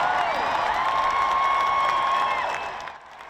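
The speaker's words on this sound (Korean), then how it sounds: "엘리자베스 2세 여왕이 발코니에 나오자 환호성이 터져 나옵니다." A large crowd outside Buckingham Palace cheers and applauds as Queen Elizabeth II appears on the balcony for her 70th jubilee celebrations, a sustained roar with whistles that fades at the end.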